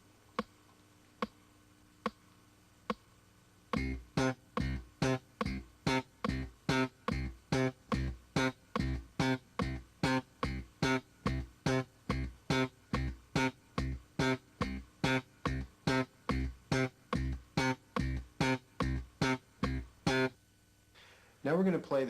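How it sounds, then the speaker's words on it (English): Short staccato slap bass notes played in a steady rhythm against ticking metronome clicks, each note clipped off sharply, preceded by a few lone clicks and ending with a sustained note. "So playing that with the metronome, it should sound like this."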